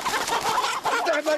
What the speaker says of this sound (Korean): 가두어 놓고 기르지 않은 닭은 다리가 길고 힘이 세다.